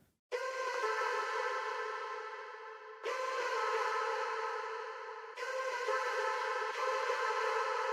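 Background vocal loop from an electronic track, a sustained airy pad-like layer that plays in three long continuous phrases, each restarting with a fresh swell, loud and alone with no talking.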